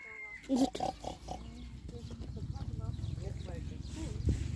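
Vietnamese pot-bellied piglets at a zoo grunt and oink in short bursts near the microphone, while children talk excitedly over and between the animal noises.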